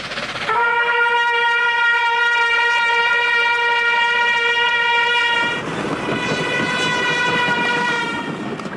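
A train horn sounds loud and sustained as the train passes close by, its steady tone dropping sharply in pitch midway through as rumbling rail noise swells beneath it.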